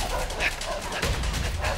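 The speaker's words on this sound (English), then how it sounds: "Now we got the dogs on us." Rottweilers barking in a chase during the A Way Out video game, rapid yips and barks mixed into a loud, busy game soundtrack with speech over it.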